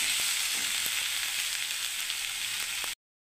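Peanut, garlic and dry chilli chutney sizzles in a pan while being stirred, a steady bright frying hiss with faint scraping ticks underneath, close and unbroken until it cuts off abruptly near the end.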